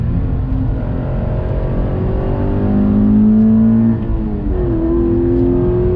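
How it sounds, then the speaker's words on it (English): A 2019 Subaru BRZ sports car engine revs up steadily, its pitch climbing for a few seconds, dipping briefly, then rising again, loud and close with no talking. "Love the sound of the engine."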